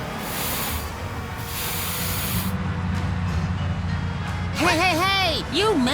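Spray paint hisses steadily from a can in the Sam & Max Save the World adventure game, a broad close spray that pauses briefly, with a voice talking toward the end.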